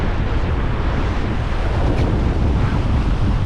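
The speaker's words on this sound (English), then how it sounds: "Still super windy" Strong wind roaring across the microphone over constant crashing surf on an Outer Banks beach at Hatteras, a loud, steady, unbroken wash of noise with no voices.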